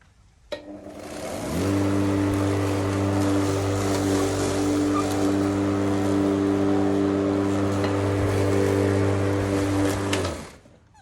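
A petrol lawn mower cuts a lawn, holding a steady, loud, close engine drone for about nine seconds before cutting off, with no voices.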